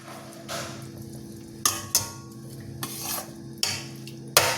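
Milk with beetroot and vermicelli stirred in a metal pan, giving soft swishing scrapes and several sharp clinks of a spoon against the pan's rim at intervals, close and moderately loud with no talking.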